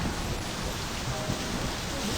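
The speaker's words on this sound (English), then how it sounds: "It's raining." Steady rain in the My Summer Car video game, a continuous broadband hiss of falling water with soft low patter throughout, even and unbroken, with no voices.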